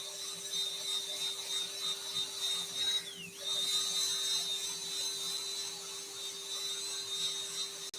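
Steady high hiss of 240-grit sandpaper against a spinning yew hollow form on a wood lathe, with a constant motor hum beneath; the pitch dips briefly mid-way as pressure changes, then resumes, close and even throughout.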